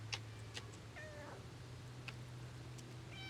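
A cat gives a couple of faint, short meows over a constant low hum and a few soft ticks, fairly quiet throughout.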